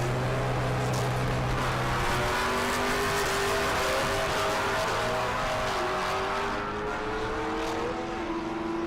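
A naturally aspirated small-block drag car launches at the SRCA Dragstrip in Great Bend, Kansas, its loud engine note climbing in pitch as it accelerates hard down the strip and then receding slightly.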